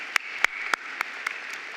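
An audience applauds honorees at a philanthropy awards event, heard as a short burst of clapping with a handful of sharp, distinct claps standing out over a steady wash of hands, moderately close.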